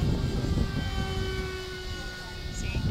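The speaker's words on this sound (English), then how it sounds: "see how much better this ducted fan worked than the F-35" Ducted fan model airplane in flight, a continuous whining buzz with a steady tonal hum, holding fairly constant throughout with a faint voice in the background.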